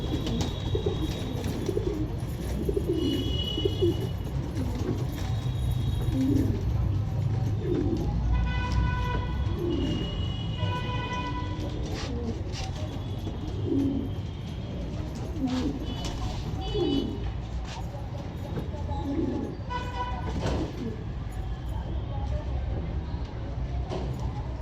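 Pigeons in a loft repeat soft, low coos over a steady hum, with higher chirps and calls mixed in, while someone talks through much of it.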